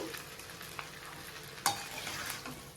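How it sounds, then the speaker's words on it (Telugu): Chicken fried rice stir-fries over high heat in a small, overfilled pan: a constant bright sizzle with a few sharp clanks of the spatula against the pan, one especially loud, heard up close with no voices. "హైలోనే ఉంచుకొని ఇట్లా మొత్తం తిప్పేసుకోవాలి"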